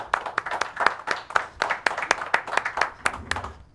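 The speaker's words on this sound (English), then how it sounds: "A round of applause" Scattered applause from a small audience honoring a young man at a local evening event in El Monte, sharp hand claps clustered in an uneven rhythm over a few seconds, nearby and moderately loud with faint voices under it.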